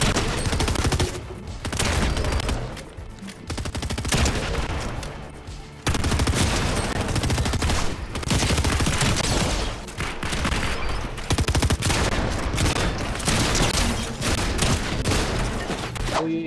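Dense, continuous gunfire and fusillade bursts in a Fortnite battle, loud and sustained with heavy layered shots and only a brief lull, no talk over it.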